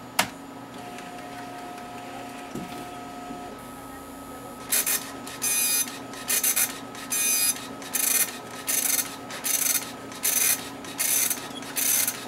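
A lens edger trimming an eyeglass lens in an optical lab starts with a click and low hum, then settles into a rhythmic cycle of loud grinding bursts separated by brief pauses, close and alone.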